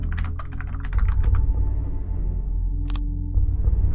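Rapid keystrokes on a computer keyboard in a video game as a code is entered, a quick burst of clicks in the first second and a single later tap, all over a low steady game ambience.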